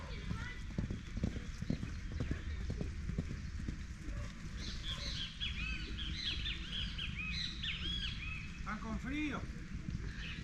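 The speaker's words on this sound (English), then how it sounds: "one of the horses just fell and slid" Several horses shift and step on slippery wet grass with continuous muffled hoof thuds and clip-clop, while birds chirp nearby and people talk in the background.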